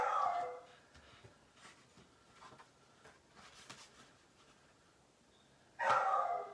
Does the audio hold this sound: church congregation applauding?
no